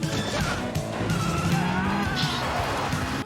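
Cars race along a road in a film chase, a dense, continuous roar of engines with crashes and tire noise, loud throughout with some voices mixed in.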